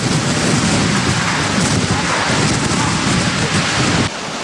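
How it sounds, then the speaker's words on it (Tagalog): Strong typhoon winds and heavy rain at night in Lagonoy, Camarines Sur, make a loud, dense, continuous roar, with deep thunder-like rumbling mixed in before the din drops off sharply near the end. "sabay na ang malakas na hangin at ulan"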